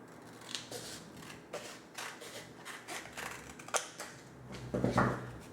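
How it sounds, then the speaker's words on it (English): Scissors cut a costume material in half while making a small whip handle, giving a series of crisp, close snips at an uneven rhythm, about a dozen cuts with no talking. "I'm going to cut it in half again"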